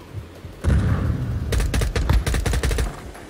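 Gunfire in Modern Warfare 2, a dense run of sharp shots and rapid bursts that starts abruptly and keeps hammering for a few seconds, loud and close.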